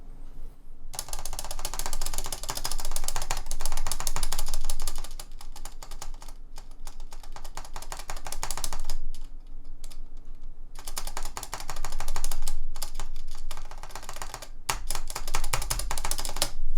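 Rapid keyboard keypresses on a C3 Equalz stabilizer clatter in quick bursts with a metallic, rattly edge. Brief pauses separate the runs, and the sound is close and steady in loudness.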